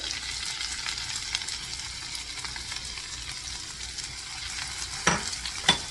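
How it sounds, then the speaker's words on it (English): Steady sizzling and crackling of vegetables frying in butter in a hot skillet, fairly quiet, with a couple of sharp scraping clicks near the end. "You should hear that nice sizzle."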